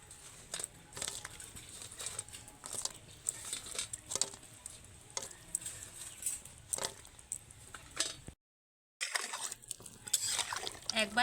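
Homemade flour sweets go one by one into hot sugar syrup in a pot, making a string of small wet plops and clinks with light liquid patter, then a short silent gap before the sounds return.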